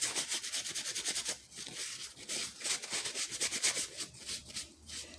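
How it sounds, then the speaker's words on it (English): Wax being buffed off a paper clay Christmas ornament, quick, regular rubbing strokes close up with short pauses between bursts, soft and dry, no voices. "Basically what you're doing is buffing out the wax."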